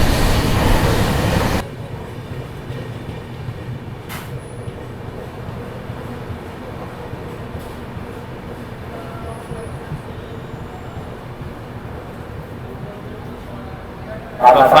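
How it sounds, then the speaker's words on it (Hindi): Poorva Express passenger train rolling into Bardhaman Junction in India, a steady low rumble of railcars heard from on board after a louder burst at the start, with faint clanks along the way. "अपनी ट्रेन हावड़ा से 93 किलोमीटर की दूरी को तय कर 14 मिनट के देरी से आ चुके अपने पहले ऑफिशियल हॉल वर्धमान जंक्शन पर"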